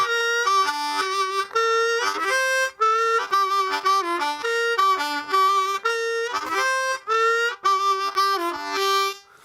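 Blues harmonica loop played alone with draw notes and a whole-step bend on the 2 draw, bright reedy phrases repeating in a steady rhythm with short breaths between them.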